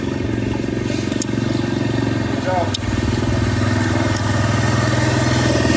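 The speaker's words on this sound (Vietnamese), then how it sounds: "Xe máy." A motorcycle engine drones steadily and close by on a flooded street in Hoi An, Vietnam, with faint clatter and a brief higher squeak in the middle.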